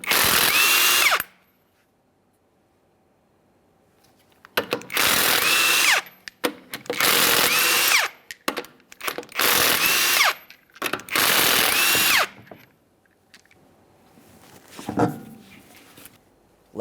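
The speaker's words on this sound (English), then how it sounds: "We'll continue on to removing all 5 of our 22mm lug nuts and then the wheel." A power impact tool zips off the 22mm lug nuts on a 2007-2013 Acura MDX 3.7L V6 rear wheel, with five loud, close bursts of one to two seconds each, separated by brief pauses, plus a few faint clinks near the end.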